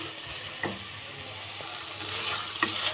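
Tomato with spices and salt is stirred and sautéed in a pan: a soft, continuous sizzle with two sharp spatula scrapes against the pan, close by.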